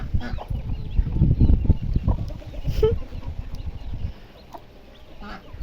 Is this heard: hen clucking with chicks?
yes